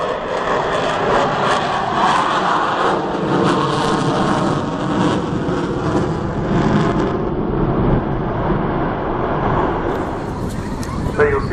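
Avro Vulcan XH558 delta-wing bomber passing low with undercarriage down at the RAF Cosford Airshow 2014, a loud steady jet roar filling the air throughout, with crowd or commentary voices faintly underneath.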